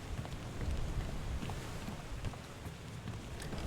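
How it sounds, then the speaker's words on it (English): Steady, dense rain hissing in the ship setting of the video game Return of the Obra Dinn, a continuous even wash of droplets with faint scattered taps. "Oh, it is raining."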